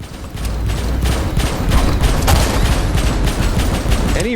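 Automated turrets in the game Abiotic Factor fire at incoming enemies in rapid, continuous bursts of shots, loud and steady throughout with a rattling mechanical edge.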